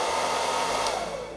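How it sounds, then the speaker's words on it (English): A blow dryer runs loud and steady at close range, a constant whooshing motor roar with no pauses. "a blow dryer, you can like blow them out."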